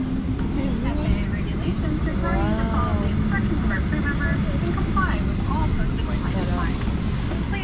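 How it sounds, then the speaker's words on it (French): Steady broadband roar of an airliner cabin in flight to San Francisco, constant and loud throughout, with voices talking over the drone. "On est dans l'avion pour aller à San Francisco."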